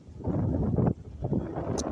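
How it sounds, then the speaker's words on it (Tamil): Gentle wind blows outdoors at sunset, buffeting the microphone in soft, uneven gusts of low rumbling noise, with no one speaking. "மிதமான காற்று ஒரு புத்துணர்வை உண்டு பண்ணுகின்றது"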